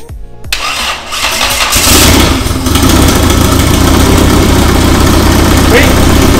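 A car engine cranks briefly and catches, then settles into a loud, steady idle close by. A few faint voices are heard at the start.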